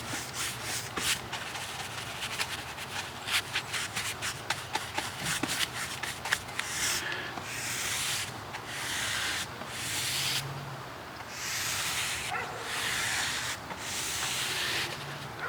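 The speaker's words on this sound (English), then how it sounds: "I apply the initial bit of paint in the middle and then just kind of fan it out sideways." A paintbrush swept over the siding of a house, spreading paint in thin coats: a steady dry rubbing and hissing of bristles, with quick brisk strokes at first giving way to longer, smoother passes, close and moderately quiet.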